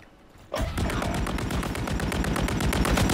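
Rapid automatic gunfire in the battle royale video game Warzone, bursting in after a brief quiet moment and continuing as a loud, sustained stream of closely spaced shots to the end.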